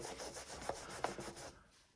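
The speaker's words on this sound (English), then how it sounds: "what I mean by buffing is literally getting a cloth and" A cloth buffs and rubs excess black dye off a dyed leather gun holster, giving a close, steady scrubbing swish with a couple of sharper strokes before it fades out.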